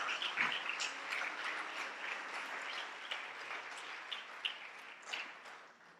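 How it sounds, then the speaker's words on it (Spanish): A church congregation claps together, a dense, even patter of many hands heard from a little distance at moderate level, fading toward the end. "Muy bien, dale ese aplauso."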